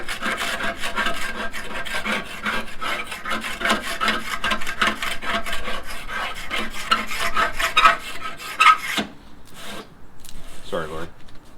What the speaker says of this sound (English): We purchased an Ooni wire brush. It has a little scraper on the end,